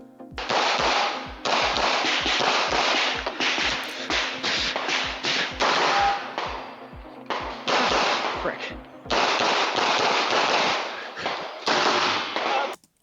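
Shots crack at a pistol shooting match stage at the 2025 GA Peach Classic, sharp reports in rapid strings with brief pauses between bursts, close and loud, with someone talking over them.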